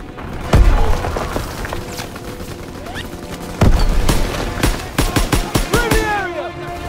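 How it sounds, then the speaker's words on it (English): Grenade explosion in the World War II shooter Call of Duty WWII: two heavy booming blasts a few seconds apart, each followed by rattling bursts of gunfire and battlefield noise. "Grenade out!"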